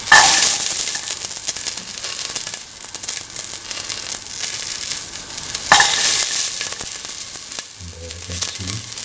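Garlic sizzles loudly in a pan for a mung bean and tomato stew, a steady bright hiss broken by sharper surges as it is stirred, with a low rumble near the end.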